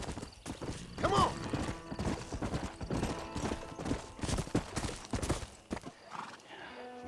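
Horse hooves clip-clop at a gallop in the Red Dead Redemption western game, with a whinny near the start, steady hoofbeats running throughout over game music and ambience, and voices speaking at times.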